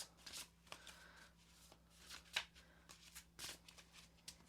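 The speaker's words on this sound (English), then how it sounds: "I shuffle." Tarot cards are shuffled by hand, soft papery riffles and slides coming in short irregular bursts, quiet and close, with no talking over them.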